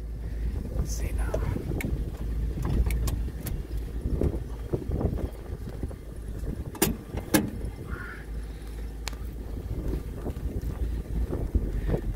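A 1940 Chevrolet Master Deluxe Business Coupe drives along with a low rumbling engine and road rumble under heavy wind noise, with clicks and knocks and a voice briefly talking.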